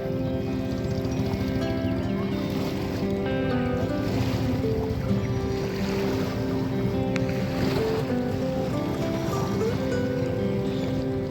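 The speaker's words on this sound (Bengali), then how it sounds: "প্রচুর স্পিড বোট এখানে ঘোরাঘুরি করছে" Speed boats run back and forth on the lake at Patratu valley near Ranchi, a steady engine drone over lapping water and wind, continuous and fairly close with no voices.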